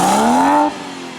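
A tuned 450 bhp BMW M140i with a stage 2+ setup and burble-delete tune gives one short, sharp exhaust rev that climbs in pitch, then cuts off abruptly into a faint idle.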